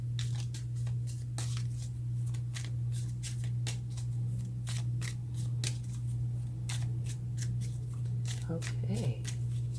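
A tarot card deck being shuffled by hand, a series of quick crisp riffling and snapping bursts, close and fairly loud over a steady low electrical hum.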